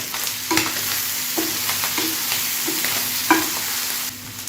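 Spleen frying with onion and peppers in a pan, giving a steady close sizzle broken by a few soft clacks of stirring, with no voices.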